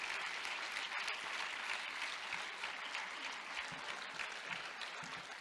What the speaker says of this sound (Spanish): quiero que le demos un fuerte aplauso